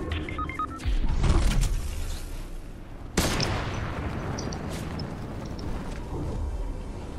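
Heavy booming blasts fire in bursts from the Cybertron Cannon in Fortnite, a loud cannon-like shot followed by a sharp second blast and rumbling debris, with no talking.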